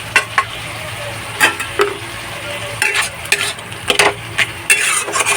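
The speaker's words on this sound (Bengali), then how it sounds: "মশলাটা দেওয়ার পর সুন্দর দেখুন কষতে শুরু করেছে মশলাটা" Ground spice paste sizzles and fries in oil in a pan for a chicken dish, a steady close hiss broken by repeated scraping and clinking strokes of a stirring spoon against the pan.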